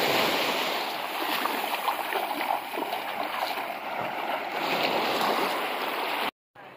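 Ocean waves wash steadily at Tabatinga beach, a broad continuous surf roar close and fairly loud, cutting off abruptly near the end; no voices.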